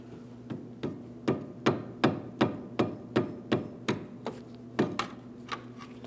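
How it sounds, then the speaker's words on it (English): About fourteen sharp metallic hammer taps on the steering shaft of a 2005-2010 Chrysler 300 in a steady, even rhythm, close up, with a low hum running underneath. "Now we'll carefully tap on the steering shaft."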